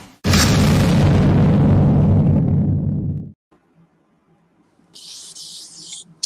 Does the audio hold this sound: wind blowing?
no